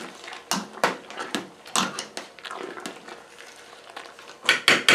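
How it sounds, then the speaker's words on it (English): A spoon stirring East Kent Goldings hops into a boiling pumpkin ale brew kettle, a series of close, sharp metallic scrapes and knocks in an irregular rhythm against a quiet background. "Well, we'll put them in there, give her a stir."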